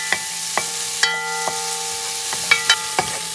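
Onion sautéing and caramelizing in a pan, a steady sizzle punctuated by regular scraping stirs of the utensil, close and fairly loud with no talking.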